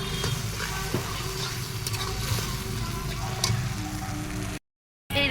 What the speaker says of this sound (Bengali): একটুখানি সামান্য জল দিলাম, জলটা দিয়ে কষছি।